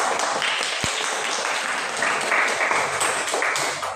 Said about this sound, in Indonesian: Kita berikan aplaus dulu yang meriah